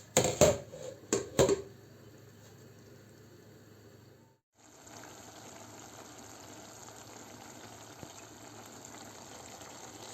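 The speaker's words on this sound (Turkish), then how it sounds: "Böyle kavrulmakta olan pırasamızın içerisine suyunu ekleyelim." Water is poured into a pan of leeks sautéing for leek pilaf, a sputtering sizzle and a few clanks giving way to a steady bubbling simmer.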